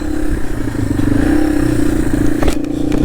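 Yamaha TW200 dual sport motorcycle ridden through snow, its single-cylinder engine a loud, throbbing putter that surges as it pulls, ending with a burst of clattering scrapes and rustle near the close.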